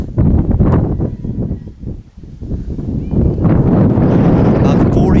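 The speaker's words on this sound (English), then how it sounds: "that wind gust may be the worst of them all today." Strong wind gusts of around 40 mph buffet the microphone at an outdoor college softball game between Georgetown and Towson, heavy low rumbling bursts that swell, ease briefly, then surge loud again.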